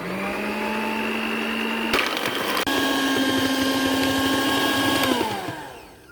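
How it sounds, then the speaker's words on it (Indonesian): An electric mixer whips whipped cream powder with ice water for buttercream, a steady loud whirring drone with a brief clattering break partway through and a slowing wind-down at the end, while a voice speaks over it. "Untuk membuat buttercream, siapkan mixer, tuang 100 ml air es, 50 gram whipped cream bubuk, mixer hingga mengembang kurang lebih 10 menit."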